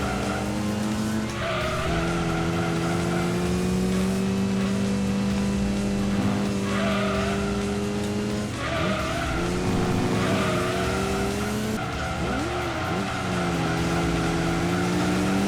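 Racing car engine in Gran Turismo 2000 on a Sony console, a loud steady drone rising and falling with gear shifts, with tire squeal and skidding through corners, continuous for the whole stretch with no talk.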